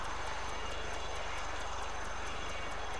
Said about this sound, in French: Avec l'hélico, j'entends rien.